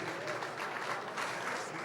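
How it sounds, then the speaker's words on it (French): Steady applause from an audience, a dense wash of clapping that holds at an even level for about two seconds. "Est-ce qu'on peut vraiment applaudir pour Marco Mbella, s'il vous plaît, mesdames, messieurs?"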